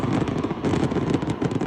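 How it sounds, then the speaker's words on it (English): Fireworks being shot off, a dense run of loud crackling pops and bursts, rapid and continuous, heard without talking. "We're shooting the fireworks off."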